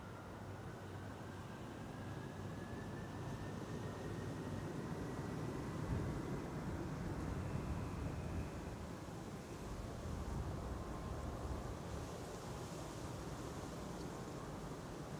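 A DHL Airbus A300 departs Amsterdam Schiphol as a faint, distant, steady jet roar with a slowly rising whine, set against low wind noise for about fifteen seconds.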